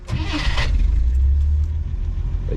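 A 1963 AMC Rambler 330 wagon, fitted with an electric fuel pump, cranks briefly and fires right up, then settles into a steady low rumbling idle.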